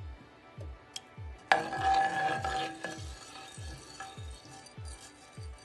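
Chicken fajita mix with diced tomatoes and juice cooking in a pan, heard as a faint, steady sizzle with a spoon scraping and clinking against the pan in a regular rhythm, one louder clatter midway.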